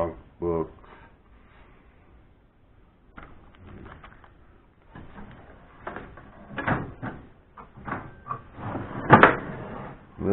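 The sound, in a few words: drawer in a machinist's tool chest being opened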